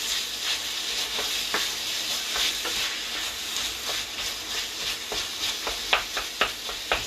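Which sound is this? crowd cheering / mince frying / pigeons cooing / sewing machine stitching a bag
mince frying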